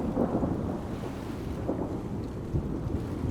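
Thunder from a storm brewing over a wild Southern African coast rolls as a low, heavy rumble with swelling surges, mixed with rain and wind buffeting, loud and near with no voices.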